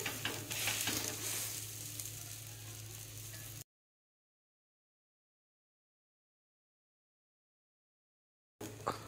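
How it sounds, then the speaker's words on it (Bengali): A vegetable egg paratha frying in a pan, a steady close sizzle for a few seconds that cuts off into silence, then briefly resumes at the end. "এবার ভালো করে ভেজে নেবো পুরোটা।"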